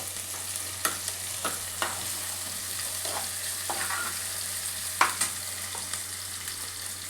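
Freshly ground ginger garlic paste frying in a pan for a cauliflower and egg dish, a steady soft sizzle broken by scattered spatula scrapes and taps, close by and without talk.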